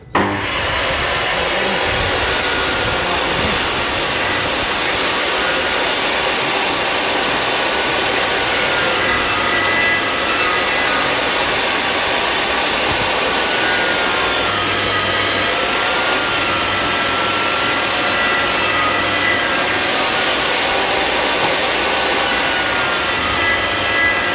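A power saw with a 40mm blade cuts notches in wood for a window, one continuous loud, close whine with steady cutting noise throughout.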